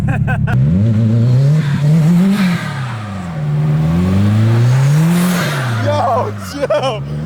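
Subaru STI drifting in snow, its engine revving up and down in repeated rising and falling sweeps, close and loud, with tire noise through the slides.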